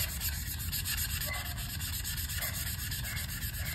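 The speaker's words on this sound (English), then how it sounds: "so to sand them down, we're using 320 grit sandpaper" Continuous close sanding with 320 grit sandpaper on a frame before painting, a loud steady scratchy rubbing with quick back-and-forth strokes and no talk.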